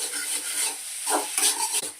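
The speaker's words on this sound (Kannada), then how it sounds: "ಆ್ಯಡ್ ಮಾಡಿಕೊಂಡು ಇವಾಗ ಚೆನ್ನಾಗಿ ಮಿಕ್ಸ್ ಮಾಡ್ಕೊಬೇಕು." Egg noodles stirred in a pan, scraping and rubbing strokes over a light sizzle, close up, a couple of stronger clacks near the end, no voices.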